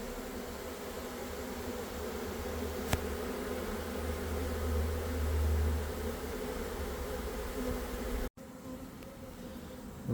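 Bees hum and drone around a straw skep after a swarm, a continuous low buzzing that stays steady and fairly loud, with a brief click near the end and a slightly thinner tail after it.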